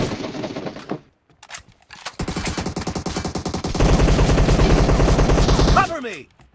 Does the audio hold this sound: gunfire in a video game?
yes